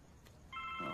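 A telephone ring in a comedy film sounds as a brief, faint tonal ringtone that starts halfway through and holds steady to the end.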